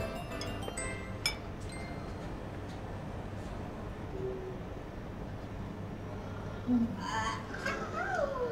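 Drinking glasses clink together in a toast at a lively dinner table where baijiu is being drunk, a couple of short bright chimes rising over steady chatter and cheerful voices.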